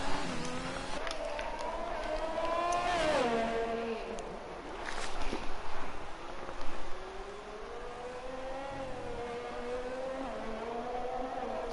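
Race car engine in a sim racing game on the Singapore street circuit, a steady close onboard drone whose pitch repeatedly climbs and drops as the car is pushed hard through corners.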